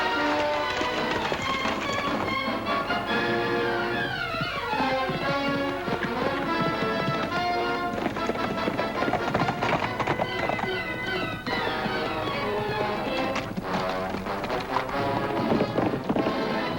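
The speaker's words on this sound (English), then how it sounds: "Let's get our horses, Lofty." Horses gallop in an old western television episode. Continuous hoofbeats pound throughout, mixed with busy dramatic music and occasional whinnies.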